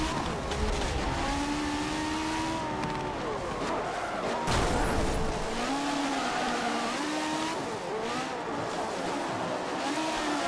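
Race cars in the video game Forza Motorsport 7 run close together in a tense race, with engines droning loudly and continuously and shifting pitch as they rev and change gear.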